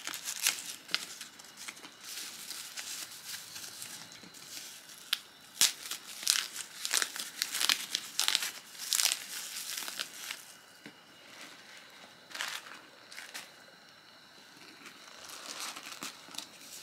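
Packaging crinkles and rustles up close around a leather tote bag in bursts of crackling, plastic-like crumpling with brief tearing sounds, quieter between handling moments.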